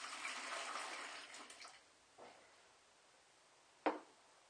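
Water splashes into the bottom of a bucket while a mushroom grow bag is being set up, a short quiet pour that tapers off, followed by a faint knock and a sharp clunk.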